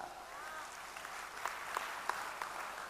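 Applause from the audience at a Hindi poetry recital during a music and dance festival in Vrindavan: soft, distant crowd clapping with a few sharper claps standing out.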